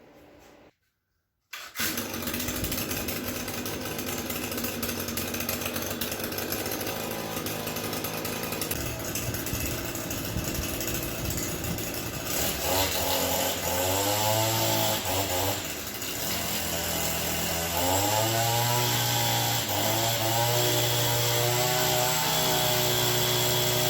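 A small engine cranks briefly after a short silence, then catches and runs loudly, revving up and down in buzzing waves.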